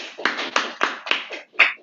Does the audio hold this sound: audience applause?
yes